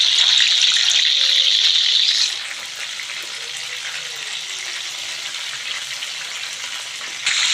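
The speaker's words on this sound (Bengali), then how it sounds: "আমি সব মাছগুলোকে ব্যাটারির সাথে মাখিয়ে ছাকা তেলে ছেড়ে দেব।" Battered Bombay duck (lote fish) pakoras fry in hot oil, giving a steady, close bubbling sizzle that is louder for the first two seconds and then settles into a softer, continuous crackle, with no speech.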